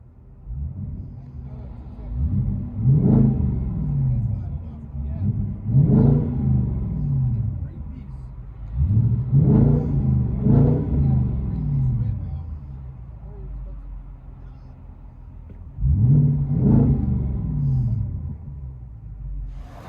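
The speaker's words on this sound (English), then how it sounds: "Amazing what a simple muffler delete would do. Let you guys hear it on the inside." Inside a 2008 Audi S5 with a 4.2L V8 and muffler delete, the engine revs up in repeated loud throaty bursts, each rising then falling back to a deep idle rumble, with some talk in between.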